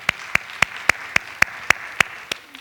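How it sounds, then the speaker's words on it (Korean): Applause from a church congregation, heard as about nine evenly spaced sharp claps at a steady rhythm rather than a dense crowd roar, fairly close and alone with no talk. "우리 한 박수로 한번"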